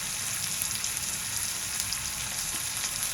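Chopped onion with chilli for radish bhaji frying in hot oil, a dense continuous close sizzle with faint crackles and no talking.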